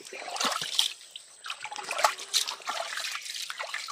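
Water trickles and splashes unevenly nearby, a soft irregular pour with small drips and no voices.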